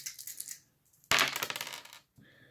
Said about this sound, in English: Little wild dice there